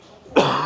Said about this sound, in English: Still getting over my cold cough.